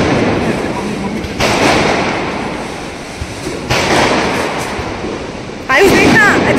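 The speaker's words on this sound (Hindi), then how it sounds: "मुझे बम पटाखे से बहुत डर लगता है" Diwali firecrackers going off outdoors during a family celebration: three sudden loud bursts that each trail into a noisy crackling wash, the last one sharp and fizzing, with voices chattering in between.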